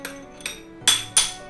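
A Makita 17mm electric chisel hammer on a brief test run gives four sharp, loud strikes at uneven intervals, each ringing briefly, close by and without speech.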